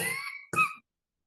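A single short, breathy cough bursts out right after a few words of speech, followed by silence.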